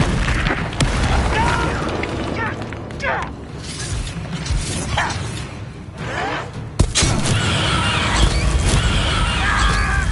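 Blasting-curse explosions in Hogwarts Legacy boom repeatedly over a constant roar of combat noise, with one sharp, loud burst standing out midway and a dense rumble continuing after it.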